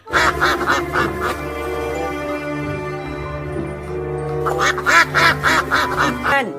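A white duck quacks repeatedly while being washed, with loud close nasal quacks in quick bursts at the start and end and a steadier run of calls between them.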